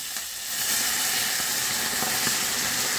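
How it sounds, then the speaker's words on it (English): Hot water sizzles and hisses steadily as it is poured, a continuous bright steamy rush lasting a few seconds. "And the boiling water goes in."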